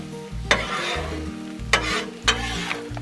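Eggs stirred on a Blackstone griddle sizzle steadily while a spatula scrapes the hot surface three times in a loose rhythm, close and fairly loud.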